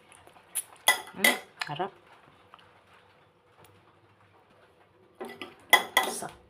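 Utensils clatter and scrape against a bowl of eggplant and bitter melon salad in two bursts of mixing with a quiet pause between, and a brief spoken word in between.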